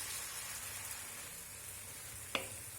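Light soy sauce hits a hot pan of fish curry and sizzles in a steady, soft hiss, with one sharp clink of a utensil near the end.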